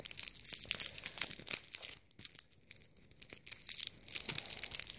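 Strips of sticky sellotape are crumpled and pulled close to the mic, giving dense, crackly crinkling and peeling bursts that briefly quieten in the middle before building again.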